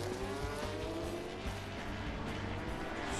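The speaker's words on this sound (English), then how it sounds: "Braking for the last time for turn 12." A Grand Prix motorcycle brakes hard into turn 12 of a race, its engine note dropping through a series of downshifts amid a loud, dense roar of racing noise with no pauses.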